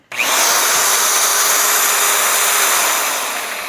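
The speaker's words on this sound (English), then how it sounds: "now what should one of these drills sound like?" A Mopar power drill kicks on abruptly and whirs with a steady high-pitched whine, easing off slightly just before it stops.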